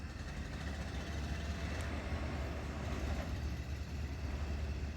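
A coal train locomotive crawls slowly uphill, nearly stalling, its low steady engine rumble and rail noise filling the scene continuously at moderate distance.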